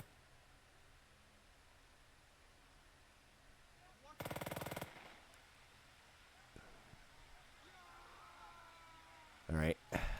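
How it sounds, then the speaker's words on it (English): MG42 machine gun fire in the tactical game Burden of Command, a dense burst of rapid automatic shots over steady background noise, then another short burst near the end, with speech around it. "We're getting held up by 2 machine gun positions, which says a lot about the MG42"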